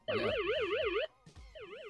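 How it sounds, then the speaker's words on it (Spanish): A Xiaomi Mi Smart Sensor Set alarm siren wails loudly in a rapid up-and-down warble, cuts off briefly, then starts again. "podemos seleccionar qué sirena suena, con qué volumen queremos que suene."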